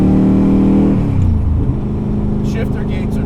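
Superformance 1965 Shelby Daytona Coupe replica with a T5 gearbox accelerating, a loud close engine drone that steps down in pitch after a gear change and keeps pulling steadily, with a voice talking over it.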